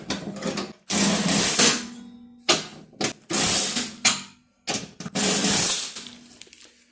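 A socket wrench tightens bolts on a Husqvarna YTA18542 mower deck, heard as several loud, close bursts of rapid ratcheting separated by short pauses.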